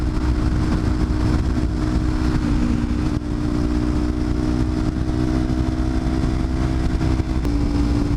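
Motorcycle cruising on a road, its engine a steady low drone mixed with constant wind rush, close and unbroken for the whole stretch with no talking.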